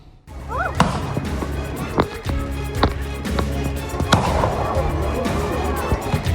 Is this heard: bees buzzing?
no